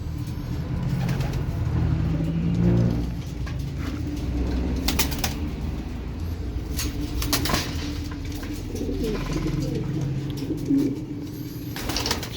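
Pigeon cocks cooing in a loft, low repeated coos close by with occasional wing flaps and a car faintly in the background, no talking.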